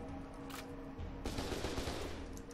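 Machine gun fire in the video game F.E.A.R. 2, a dense continuous rattle of rapid automatic shots that swells louder midway, with no talking over it.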